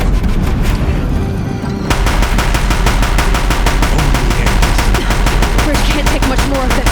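Deathbringer machines in Horizon Zero Dawn fire their guns in a loud, relentless machine-gun stream of rapid evenly spaced shots that briefly thins and then resumes at full intensity near a bridge.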